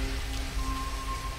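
Steady rain falls in a Blade Runner film scene, a dense, even patter filling the whole stretch at moderate loudness, with faint low tonal hums underneath and no voices.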